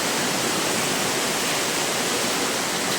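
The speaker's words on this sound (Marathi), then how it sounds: "पावसाची घेते हवा आहे ना जोरात पाणी पण आतमध्ये येते" Heavy night rain and a strong wind drive water onto a balcony. The result is a dense, loud, unbroken rushing hiss with no distinct drops or gusts, and no talking can be heard.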